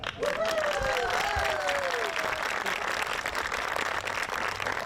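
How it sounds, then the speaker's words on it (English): Wedding guests applaud during the ceremony, a continuous bed of clapping under a voice that speaks over the first couple of seconds. "I'd like to have a big round of applause for the fact that you even found each other to begin with"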